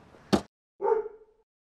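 Dog barking at a campsite beside a camper: one sharp close bark, then a longer, wavering yelp that fades out, with quiet around them.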